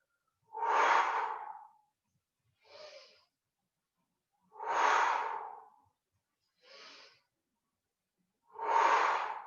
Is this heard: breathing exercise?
yes